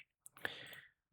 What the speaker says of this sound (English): so the keyboard is not very responsive today